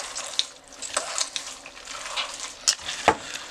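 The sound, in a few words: ground meat being mixed by hand in a bowl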